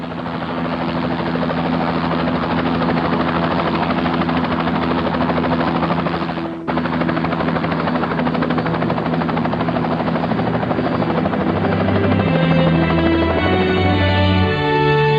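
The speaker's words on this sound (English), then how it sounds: "The chopper is on its way." A helicopter arrives in the Trespasser video game, its loud rotor thumping and turbine whine continuous for the whole stretch, briefly cut once, then drawing nearer with rising engine tones and no talking.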